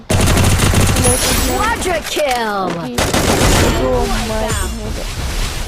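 Rapid bursts of gunfire crackle loudly in a shooter video game, overlapping with a man's excited, sliding voice talking throughout.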